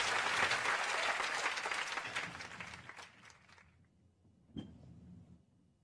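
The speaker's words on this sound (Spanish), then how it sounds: "Gustavo, César y Fernando, el aplauso del público para ustedes." Audience applause for the panelists at a televised opinion forum on Quito's transport, a full burst of clapping that fades out over a few seconds, followed by a single short knock or click.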